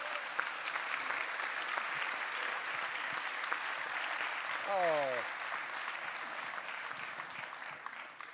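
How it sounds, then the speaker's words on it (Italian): An audience at an Italian lecture event applauds in a moderate, even wash of clapping, fairly soft and distant, with a brief rising whistle-like tone partway through. "Facciamoci un applauso."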